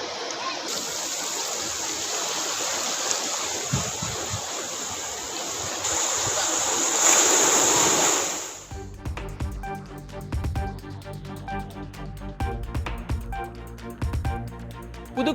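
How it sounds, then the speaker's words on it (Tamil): Sea waves washing ashore near the Tiruchendur Murugan temple make a steady, broad rushing wash for about eight seconds, then fade into quieter, rougher outdoor noise with faint surf. "திருச்செந்தூர் முருகன் கோயில் அருகே திடீரென 50 அடி உள்வாங்கிய கடல்"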